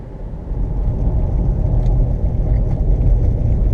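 An all-wheel-drive Subaru Impreza accelerates, its engine giving a loud, deep rumbling roar that slowly swells and holds, heard from inside the car with no one speaking.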